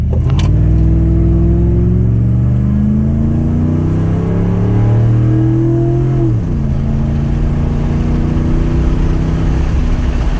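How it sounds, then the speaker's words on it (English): A 2007 Ford F150 pickup with Banks torque tube headers, a tune and 34-inch tires launches hard from a stop, its engine revving up through the gears with a loud, rising roar and a clear shift partway through. "So do a quick 0 to 60 and give it a little bit of a launch here."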